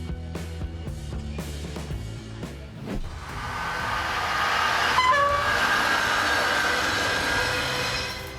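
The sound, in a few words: military train leaving port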